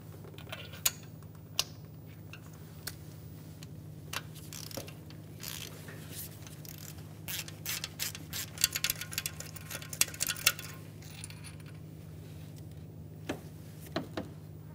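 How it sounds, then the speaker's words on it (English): A spark plug socket on a ratchet loosens a spark plug in a 2012-2015 Honda Civic. Faint creaks and clicks come first, then a denser burst of quick ratchet clicking, all over a quiet, steady low hum. "To remove the spark plug, we're going to be using a 5/8 spark plug socket."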